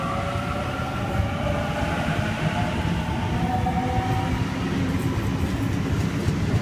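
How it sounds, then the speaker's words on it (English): A Sydney Trains Waratah electric set departs platform 4 at Flemington on a Campbelltown service, a loud, steady rolling rumble with rising motor whine and faint wheel clatter, close by and continuous. "We've got a Waratah departing platform number 4."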